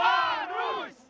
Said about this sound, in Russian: И трибуны приветствуют Дарью Домрачеву и Анастасию Кузьмину.